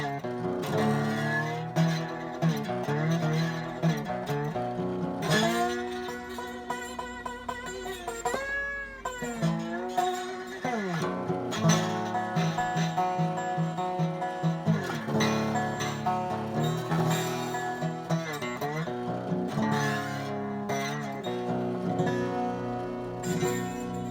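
An acoustic guitar played with a slide, notes gliding and bending between pitches, with sustained chords ringing continuously and fairly loud.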